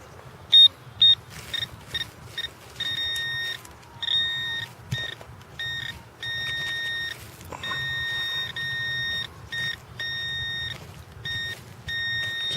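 Metal detector sweeping over buried coins gives repeated high electronic beeps and tones in irregular bursts, with a louder pair of blips early on and a continuous tone later, over quiet outdoor background.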